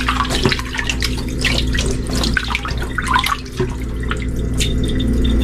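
Raw chicken pieces are washed under running water at a kitchen sink, a loud, close splashing and trickling with uneven sloshes as the pieces are handled, and no talk.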